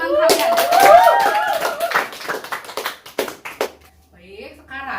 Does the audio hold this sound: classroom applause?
yes